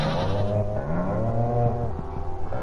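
Farm goats and cows in the Stardew Valley video game, with overlapping wavering bleats and a low moo-like tone, close and clear over light game music.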